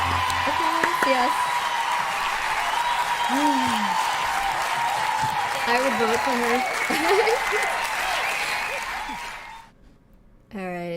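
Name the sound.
talent show audience applauding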